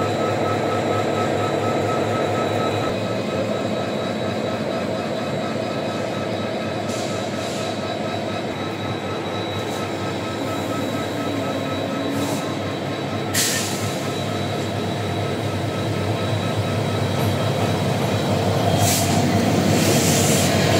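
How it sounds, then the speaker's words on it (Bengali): The Parjotak Express passenger train rolls into Chittagong railway station with a continuous heavy rumble, occasional high wheel squeals and faint background voices. "আমরা যে ট্রেনে করে যাব পর্যটক এক্সপ্রেস, সেটি চট্টগ্রাম রেল স্টেশন আসতেছে"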